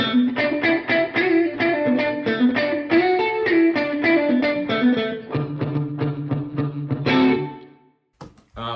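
An electric guitar runs through an HX Stomp AC30 amp preset with room reverb, playing a bright, slightly driven melodic line of picked notes, then sustained chords that ring out and fade before a short noisy tail.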